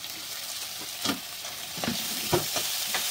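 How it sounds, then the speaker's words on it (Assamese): Soaked masoor dal fries in a pan with cumin powder, turmeric and salt, a low steady sizzle broken by about four scraping stirs of a spoon, close up with no voices. "আমি দালিখিনি অলপমান ভাজি ল'ম এনেকৈ"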